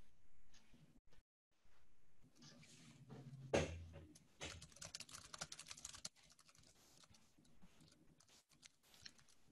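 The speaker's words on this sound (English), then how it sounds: "I could hear a keyboard" A computer keyboard is typed on in quick, irregular bursts of clicks, close and fairly quiet, with brief pauses and one louder clatter partway through, picked up during an online webinar.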